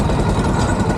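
Close, loud, steady motorcycle engine idling with a low throbbing chug, brief and unbroken.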